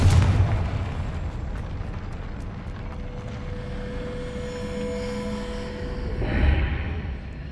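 A Confringo spell blast in Hogwarts Legacy, a sustained booming explosive rumble that swells again near the end, with no talking over it.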